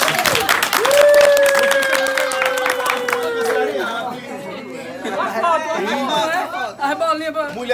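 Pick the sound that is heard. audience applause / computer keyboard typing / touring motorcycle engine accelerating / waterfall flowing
audience applause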